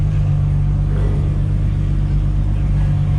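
A Mark 5 Toyota Supra's engine gives a loud, steady low rumble nearby, holding an even drone without clear revving.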